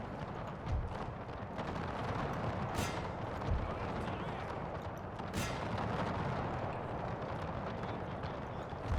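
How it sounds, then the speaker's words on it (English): Distant artillery booms roll through a Napoleonic-era battle in a video game mod, thudding repeatedly over a constant din of combat noise, with a few sharper cracks standing out. "I just need you guys to hold for the artillery to do its work here."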